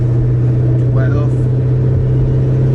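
Supercharged Ford Mustang engine running in second gear around 2000 rpm, a steady loud low drone throughout with a brief faint whine rising midway.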